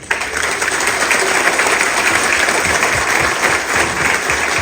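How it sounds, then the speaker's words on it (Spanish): A congregation at a novena for Saint Nicholas of Bari bursts into loud, dense applause, a sustained roar of many hands clapping together close by, unbroken from start to finish. "Vamos a dar un aplauso a San Nicolás de Bari"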